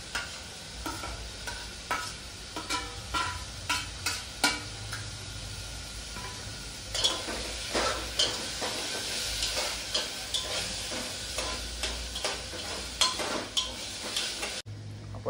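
Khichdi mixture is stirred steadily in a pan over a soft sizzle, the spoon scraping the metal in a regular run of close, sharp strokes for the full length.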